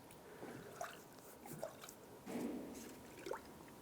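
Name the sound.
car engine coolant bubbling in filling funnel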